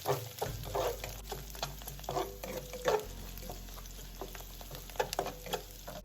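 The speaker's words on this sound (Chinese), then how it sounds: "炉火调小，慢慢将食材炒香。" Diced mushrooms and minced dried shrimp stir-fried over low heat in oil with fried scallion and garlic, a steady quiet sizzle broken by scraping stirs of the spatula, near and alone.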